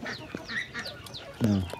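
Chickens on a farm, with brief clucks and squawks from the birds in a short snippet, one louder call near the end, faint background noise around them.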